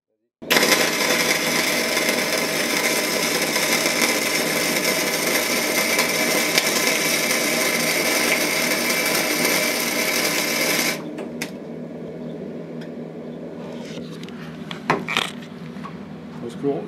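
A Decastar 150E welder lays a bead with flux-core wire, a loud, continuous crackling buzz for about eleven seconds before cutting out, followed by quieter handling noises and a faint voice.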